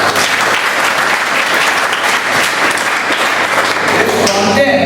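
Loud, continuous applause from a Toastmasters meeting audience, dense clapping that stays steady throughout without any speech over it.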